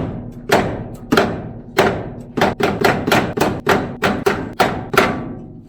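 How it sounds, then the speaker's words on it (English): A hammer beats down the heated high side of a steel steering motor mount, about a dozen loud, ringing metallic blows, slow at first and then in a quicker steady rhythm, close up with no talking. "I'm going to heat it up and just beat this high side down"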